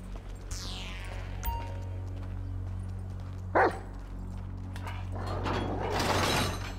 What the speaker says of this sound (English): Screw that dog, man! Don't hump him! Bite his ass, Chop